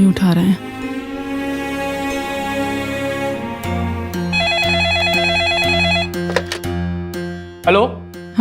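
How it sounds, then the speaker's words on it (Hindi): A telephone rings repeatedly in short bursts alongside background music, with voices talking around it. "फोन क्यों नहीं उठा रहे हैं?"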